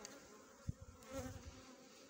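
Honey bees buzzing around hives on a sunny February day, a steady close drone with individual bees passing near, plus a brief soft knock.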